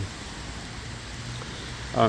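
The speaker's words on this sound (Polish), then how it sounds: "I wreszcie deszcz w Radomiu." Steady rain falls in a city park in Radom, a soft continuous hiss filling the scene, with a brief voice breaking in at the end.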